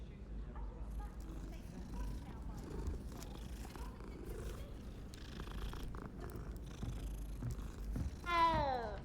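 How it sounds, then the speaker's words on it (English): A petted cat in the Hogwarts Legacy video game purrs in a low, rhythmic rumble under soft game sounds, then gives a brief rising meow near the end. "Always gotta pet some kitties."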